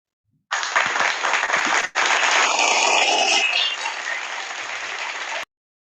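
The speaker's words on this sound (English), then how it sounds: "Let's have a round of applause for sir." An audience at a formal talk series bursts into dense, sustained applause for about five seconds, many hands clapping together and filling the room, then stopping abruptly.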